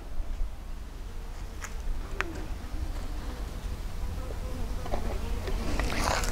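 Honey bees buzz around an opened wooden beehive box, a close, steady drone with brief sharper passes of individual bees and some bird calls behind, growing busier toward the end.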